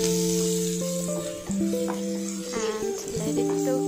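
Chopped onion with salt, Kashmiri chili and turmeric sizzles steadily in a pan beneath sustained musical tones, a soft continuous frying hiss throughout.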